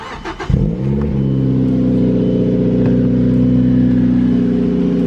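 A Mazda 3 car engine cranks and catches with a quick rev, then settles into a steady, loud idle as it warms up, a close, continuous mechanical drone with no talking.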